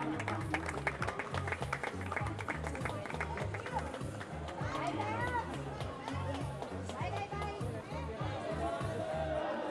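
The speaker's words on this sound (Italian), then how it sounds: "complimenti, un applauso" Crowd at a youth football tournament award ceremony claps and cheers as the team captain collects the prize, steady applause mixed with chatter and a strong rhythmic music beat underneath throughout.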